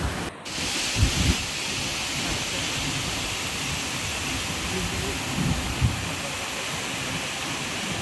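Steady, broadband rushing of Hudru Falls, a continuous roar that fills the scene with a few brief bumps near the start.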